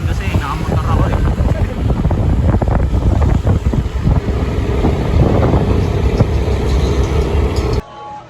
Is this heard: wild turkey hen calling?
no